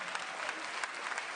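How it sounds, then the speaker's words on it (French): Brief burst of continuous applause from an audience at an ecologist political rally in Villeurbanne, a dense, even patter of many hands, fairly quiet. "Vous pouvez l'applaudir."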